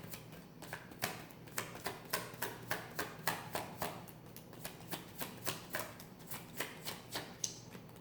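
Tarot cards shuffled by hand in a steady rhythm of soft, crisp riffles, about two per second, close and quiet with no talking.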